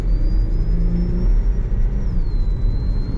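A 2005 Pontiac Aztek Rally Edition with 112k miles, heard from inside as it drives on a road, gives a steady low engine and road rumble with a faint high whine above it.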